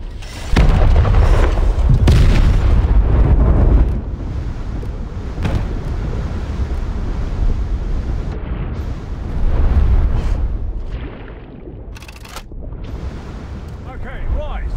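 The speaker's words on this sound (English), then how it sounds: "Torpedo away!" A submarine torpedo launches in the War Thunder Mobile naval game, with loud booming blasts and rumbling underwater noise throughout, while crew voices call out orders over it.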